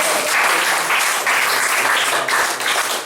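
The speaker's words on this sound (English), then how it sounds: "Give him a round of applause" An audience gives a sustained round of applause for Mr. Bailey, recently honoured with the Governor General's award for excellence, with dense steady clapping filling the room.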